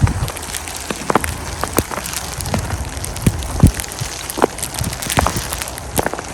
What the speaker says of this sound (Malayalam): അടിപൊളി മഴയും സ്നോയും കൂടിയാണ്